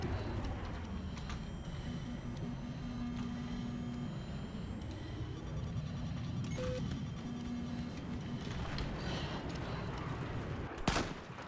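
Gunfire in the video game Battlefield 4: a steady wash of battle noise with scattered shots, ending in one sharp, loud report near the close.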